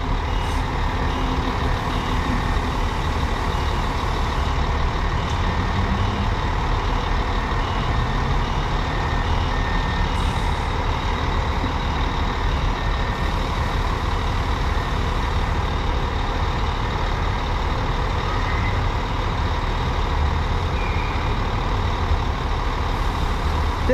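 A Viação Cometa coach pulls out of a bus station in São Paulo state, bound from Sorocaba to São Paulo. Its engine gives a steady, loud rumble against the station's constant background noise, with no pauses and no talk.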